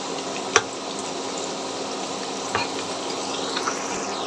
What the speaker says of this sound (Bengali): এভাবে উল্টে পাল্টে ভেজে নিতে হবে